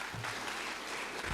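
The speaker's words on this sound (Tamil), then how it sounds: "ஸோ ஃபர்ஸ்ட் ஆஃப் ஆல் அதுக்கே நீங்கள் உங்களுக்கே ஒரு கைத்தட்டல் கொடுத்துக்குங்க." Applause from a college audience at a student induction session, a dense steady clapping filling the whole moment at moderate level, with no voices over it.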